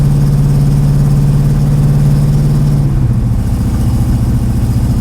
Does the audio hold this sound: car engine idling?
yes